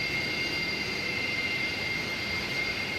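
Airbus A310 jet engines in the X-Plane flight simulator give off a loud, steady whine with high tonal notes over a broad roar, unchanging throughout and with no voices.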